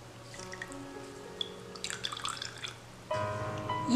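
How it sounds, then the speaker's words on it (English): Water squeezed by hand from milk curds wrapped in a white cloth over a strainer, dripping and trickling in a kitchen, a light patter that swells into a steadier stream near the end. "Squeeze out all the water from this."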